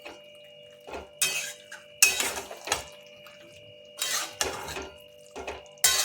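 Chicken is stirred in a kadai with a metal spoon, giving several sharp scraping and clanking bursts against the pan separated by short pauses, close and clear over a faint steady hum.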